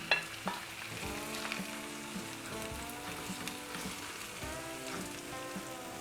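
Chicken liver hits a hot pan and sizzles steadily, a dense, even frying hiss with a few sharper spits at the start, close and continuous with no talking.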